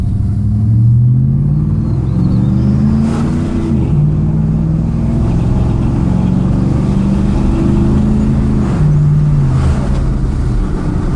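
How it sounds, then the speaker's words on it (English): A 2006 GMC Sierra pickup with a 4L60E transmission and 35-inch tires pulls onto a road at quarter throttle, its engine giving a loud, close, deep rumble that rises in pitch through each gear before shifting. "here's quarter throttle pulling out onto a road."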